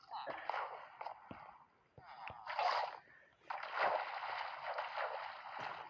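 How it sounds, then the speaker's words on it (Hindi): Minecraft survival water flowing and splashing near a base gate, soft gurgling and sloshing bursts in uneven waves, fairly close, with a voice talking intermittently over it. "कहाँ तक बह रहा है पानी?"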